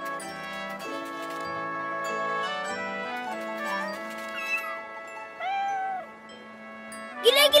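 Several cartoon cats meow repeatedly, some calls rising and bending in pitch, fairly close, with soft background noise and no talking.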